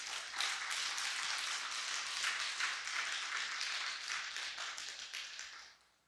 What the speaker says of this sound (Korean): 박수 한번 올려드립시다.